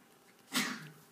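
A single short sneeze bursts out in a quiet classroom during a chemistry lesson, sharp and breathy, then fades quickly.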